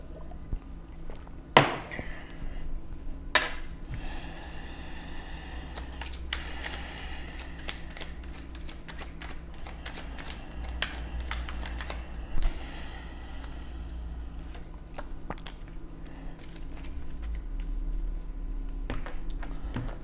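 Oracle cards being shuffled and handled at close range, a steady run of soft papery flicks and riffling taps, loud and alone without speech.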